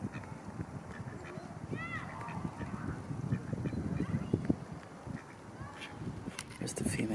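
Ducks calling outdoors, a few short nasal quacks and honks at moderate distance, partly under a person talking and shuffling sounds.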